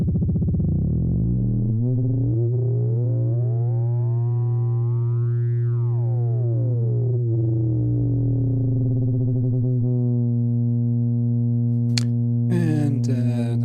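An analogue three-operator FM synthesizer with an exponential FM oscillator producing a sustained, buzzy harmonic tone that sweeps upward into a bright peak and settles back down, alone and loud, ending with a few short clicks.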